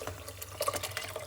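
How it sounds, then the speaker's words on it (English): Water carrying boiled broccoli and cauliflower is poured back into a pot, a brief splashing, gurgling pour heard up close. "We're gonna pour it back into it with the water"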